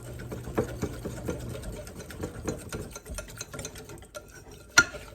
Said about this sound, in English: Whisk this up real good and put it over top of that whipped cream layer.